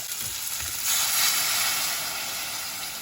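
Two cups of cold water poured into a hot pan of seared chicken for a curry burst into a loud, steady, bright sizzling hiss that swells and holds close up, with no voices.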